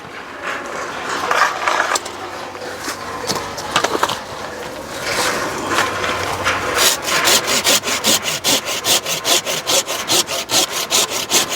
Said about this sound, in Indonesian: Minta tolong gergaji ya.